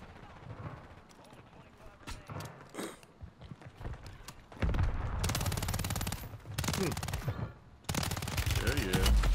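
Rapid submachine gun bursts in a Rebirth Island shooter match, loud dense automatic fire in several sustained runs, with a player talking over the action in the earlier stretch.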